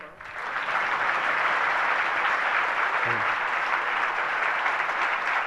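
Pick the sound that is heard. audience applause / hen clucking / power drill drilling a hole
audience applause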